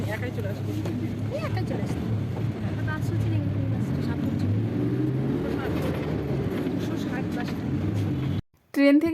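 Steady low engine rumble and road noise fill the interior of a city bus in Kolkata, a constant drone for several seconds before a brief cutout and a sharp burst at the end.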